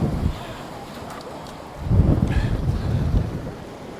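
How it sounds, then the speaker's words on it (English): Gusty wind buffets the microphone outdoors in rainy weather, a rough low rumble that surges strongly around the middle and keeps blustering, loud and close. "that wind's really picked up gusty"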